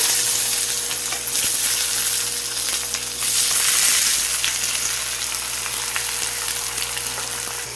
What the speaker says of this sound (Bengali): তেল গরম হয়ে গেছে, এবার দিয়ে দেবো বেগুন, মটরছিমি, আলু।